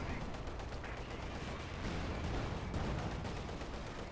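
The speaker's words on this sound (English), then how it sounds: "Again, they're firing point blank." Units in the Company of Heroes 2 strategy game trade point-blank fire in a 1v1 battle, a dense, continuous rattle of gunshots and bursts at steady loudness with a few sharper volleys.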